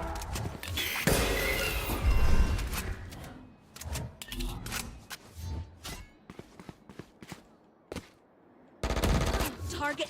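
Rapid gunfire from the tactical shooter Valorant, with bursts of automatic fire and single shots, loud and close, broken by brief pauses and footsteps, alone without talk.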